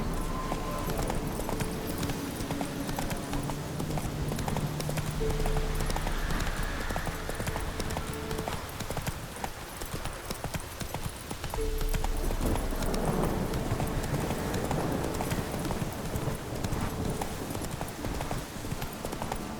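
Roach, the horse in The Witcher 3: Wild Hunt, gallops with a quick, steady clip-clop of hooves that runs throughout, accompanied by game ambience and background music.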